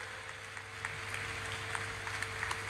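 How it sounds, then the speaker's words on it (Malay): Applause from a crowd for visiting presidents at the opening night of the 19th World Pencak Silat Championship 2022 in Melaka, Malaysia; soft, steady distant clapping with a few sharper claps standing out. "Kita bagi satu tepukan kepada kesemua presiden"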